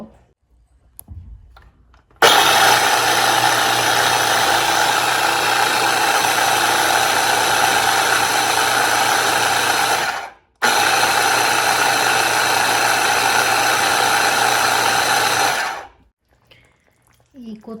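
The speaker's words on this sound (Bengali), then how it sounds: "এটা ঠান্ডা হলে ব্লেন্ডারে ব্লেন্ড করে নিব" A kitchen blender blending cooked taro leaves whirs loudly and steadily, cuts out for a moment, then runs again before stopping.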